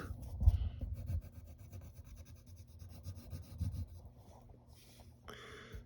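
A pencil or marker rubs back and forth on paper while drawing and coloring in black eyebrows, soft close scratching strokes in an uneven rhythm, quiet with faint tapping near the end.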